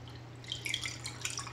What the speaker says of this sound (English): I'm going to pour it.